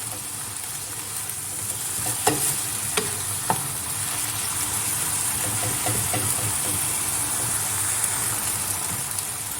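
Steady, loud sizzling of spinach frying in an uncovered pan, with occasional scraping clicks of stirring, close and continuous.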